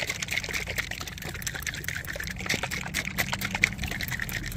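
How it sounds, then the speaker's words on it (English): Liquid sloshes inside a bottle of engine flush as it is shaken hard, giving rapid irregular splashing bursts that stay fairly faint and close, with no talk over them. "I'm gonna shake it up real good."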